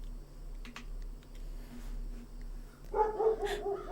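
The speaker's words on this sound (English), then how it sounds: "It wasn't long before we were alerted by Fyrus's muted barking." Fyrus the dog barks in a video game, muted and distant: a couple of soft barks near the end over a low steady background hum, with faint clicks earlier.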